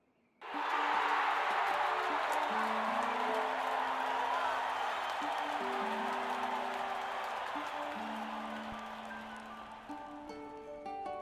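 Game crowd in Octopath Traveler II roaring and cheering continuously, loud and broad, with sustained tonal music notes running underneath and the cheer slowly fading toward the end.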